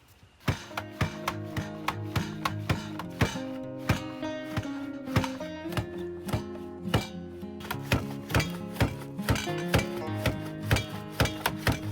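A knife chops vegetables on a board in steady, rapid, crisp strokes, close by, over a constant tonal background hum.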